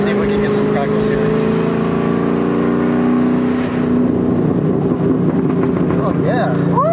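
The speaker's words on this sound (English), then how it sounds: "Yours has some good crackles." Exhaust of a stock 2003/04 Ford Mustang Cobra, a loud, close engine drone with sharp crackles and pops as revs fall, while voices are heard over it.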